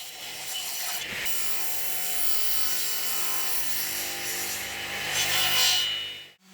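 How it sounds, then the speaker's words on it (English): A table saw cuts along a wooden kitchen plinth to plane its face, giving a steady, loud broadband whine of blade through wood that holds for about five seconds, swells briefly near the end, then drops away as the cut finishes. "I used the table saw to do the air quotes planing"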